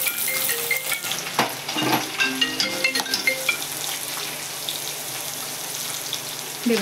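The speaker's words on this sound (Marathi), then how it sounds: "इकडे हा कांदा परततोय आपला" Onion sautés with fried peanuts in a pan, a busy close sizzle with repeated clinks and scrapes of a stirring spoon that later settles into a steadier hiss.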